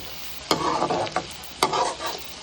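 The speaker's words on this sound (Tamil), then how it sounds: "பூண்டு கறிவேப்பிலை அப்புறம் வெங்காயம் போட்டு நல்லா வதக்கிக்கோங்க" Garlic, curry leaves and onion sautéing in a pan for drumstick-leaf sambar, a close sizzle broken by sharp scraping stirs of a spoon against the pan, two or three distinct strokes over a crackling base.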